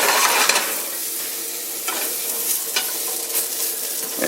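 Quiche ingredients fry in bacon grease in a cast iron skillet, giving a close, steady sizzle with scattered pops and stirring scrapes, no voices.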